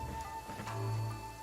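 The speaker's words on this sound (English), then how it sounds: "This heavy rain must be quite an inconvenience for you." Heavy rain falls in Genshin Impact, a soft continuous patter and hiss under the game's background music, fairly quiet and steady.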